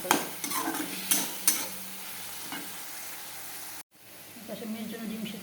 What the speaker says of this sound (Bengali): ভালো করে কষবে একটা খুব সুন্দর করে।